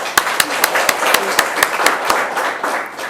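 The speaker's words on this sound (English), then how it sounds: "join me in expressing our appreciation to them in the usual manner with a round of applause" A small group applauds, with distinct sharp claps standing out in a steady rhythm over a softer bed of clapping.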